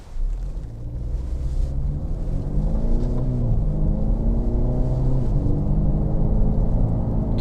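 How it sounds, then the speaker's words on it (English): A passenger car accelerates steadily from inside the cabin, engine drone rising in pitch and loudness as it climbs to about 50 miles an hour on an open road, with no talking. "So I'm going to get the car up to about 50 miles an hour."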